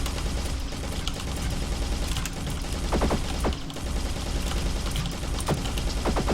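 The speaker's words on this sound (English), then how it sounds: "looking at something simple like the rifle. It's hit scan instead of projectile, it's fully auto" A fully automatic hitscan rifle in a first-person shooter aim trainer game, fired in several rapid bursts of clipped shots over a steady game background.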